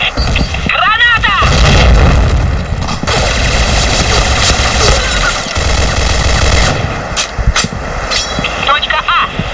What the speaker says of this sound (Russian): Граната! Граната! Граната! Граната!